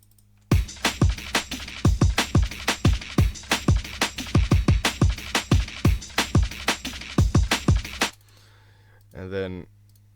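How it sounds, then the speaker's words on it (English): Fast, hard programmed drums with layered snares, closed hi-hats at varied velocities and deep kicks, a dense rapid rhythm for about eight seconds before cutting off, followed by a brief voice. "So all of the drums layered together is gonna sound like this."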